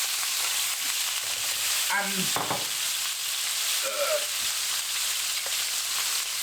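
Ground beef sizzling loudly in a hot pan for a wild mushroom pie filling, a steady dense crackle throughout with a voice speaking briefly over it.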